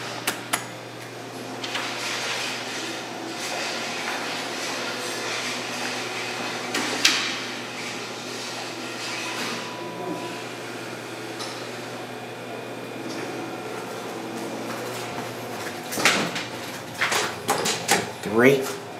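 A Thyssenkrupp hydraulic elevator runs at Tennyson Place with a steady low hum, and its doors clatter and thump near the end. A person speaks over the sound.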